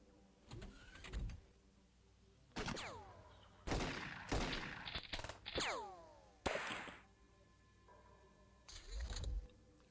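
Gunfire in the X-Com video game comes as several sharp synthetic shots, each with a falling electronic whine, in separate bursts spread across the stretch with quiet gaps between.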